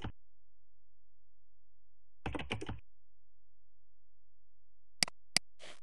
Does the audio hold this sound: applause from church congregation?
no